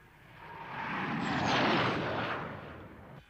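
The new Fireflash airliner flying past with a broad, smooth jet roar that swells to a peak mid-pass and then fades, heard alone.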